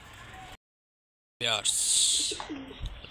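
Pigeons at a pigeon farm coo and call up close in a loud, dense burst after a brief dropout, with some broadband rustle around them.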